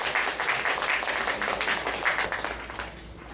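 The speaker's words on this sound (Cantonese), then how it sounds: "我哋用熱烈嘅掌聲歡迎何淑基老師" Audience at a seal-carving and calligraphy lecture claps warmly to welcome the speaker, a dense, steady patter of applause in a hall that tapers slightly at the end.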